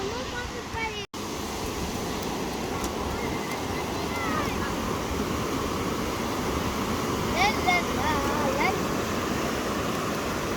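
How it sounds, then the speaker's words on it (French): Ocean waves at a beach surge and wash in a continuous broad roar with wind buffeting the microphone, while faint voices talk in the background. "on prend des bonnes vagues, quoi."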